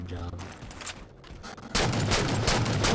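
Heavy rapid-fire gunner blaster in the Halo MCC video game, a dense, loud continuous burst that kicks in partway through after quieter gameplay sounds.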